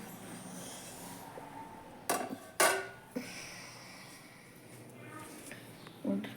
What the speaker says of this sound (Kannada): ಈ ಥರ ಒಲೆ ಮ್ಯಾಗಿಟ್ಟು ಪ್ಲೇಟ್ ಮುಚ್ಚಿಬಿಡ್ತೀನಿ ರೀ.